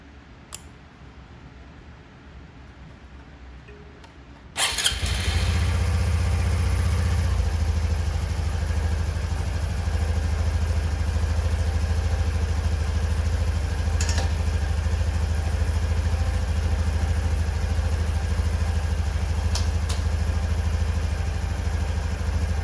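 A Honda CT125 motorcycle engine catches after a quiet moment and settles into a steady, close idle that runs on evenly, with a couple of faint mechanical clicks over the drone.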